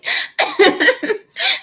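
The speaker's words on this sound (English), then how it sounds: "I'm sorry for coughing." A person coughs in a close, loud burst of several dry hacks, with a short pause before a final cough.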